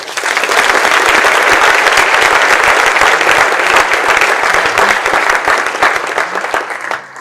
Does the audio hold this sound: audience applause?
yes